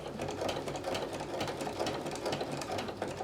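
A sewing machine stitches down a plush toy's tail in one continuous, fast, even run, close and steady throughout.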